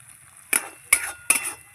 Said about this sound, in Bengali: মশলাটা আমি ভালো করে কষিয়ে নিয়েছি।